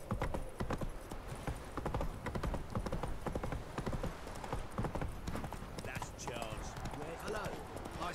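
Roach, a horse in The Witcher 3, trots with steady rapid clip-clop hoofbeats close up, a continuous rhythmic clatter running throughout alongside a faint whinny.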